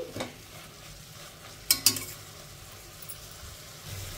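Raw mango pieces frying in a pan are stirred with a utensil, giving a soft steady sizzle and two sharp clinks of metal against the pan near the middle, with no talk.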